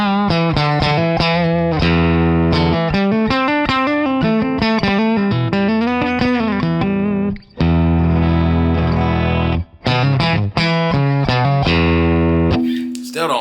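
A distorted Relish Mary One electric guitar played through a switched pickup setting, with busy riffing, chords and single-note runs, loud and close, with two brief gaps.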